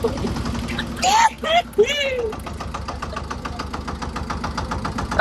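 A tractor engine runs steadily on the way to a farm field for monsoon sowing, a continuous low rumble with knocking pulses throughout, while people talk briefly over it near the start.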